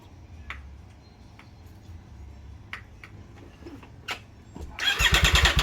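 A 2020 Triumph Street Triple fitted with an SC Project S1 titanium exhaust is started: quiet ticking and clicks give way to the engine cranking and catching near the end, firing loudly in a rapid rhythm.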